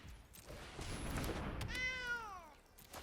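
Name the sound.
cat meow when cat card is played in MTG Arena video game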